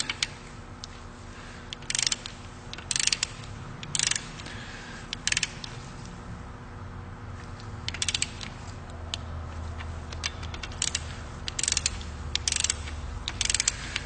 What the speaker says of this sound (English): Set my torque wrench.